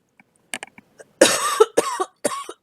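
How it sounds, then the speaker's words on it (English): A person coughs several times while indoors at a painting session: a few soft, short throat sounds first, then a louder cluster of harsh, close coughs in quick succession. "I have coughs today."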